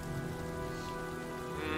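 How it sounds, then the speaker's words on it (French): Steady rain pours down in the video game Heavy Rain, a dense, continuous hiss of drops on surfaces with a low rumbling bed, constant and close with no voices over it. "Ça fait plusieurs jours qu'il pleut."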